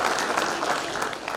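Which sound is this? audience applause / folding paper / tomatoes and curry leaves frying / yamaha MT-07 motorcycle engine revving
audience applause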